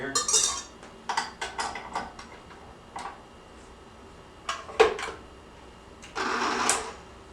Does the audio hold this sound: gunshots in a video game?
no